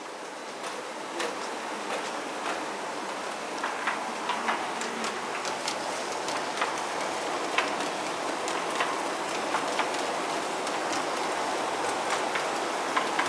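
A hollow-bodied Bachmann model train rolls along its track on a layout loop, making a steady rattling rumble with scattered light ticks and clicks from the wheels, moderately close and continuous.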